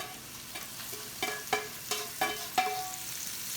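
Cooked mushrooms and onions hit a steak frying in a pan for a Philly cheesesteak. A steady sizzle carries several sharp, stirring scrapes and spatters spaced about a third of a second apart.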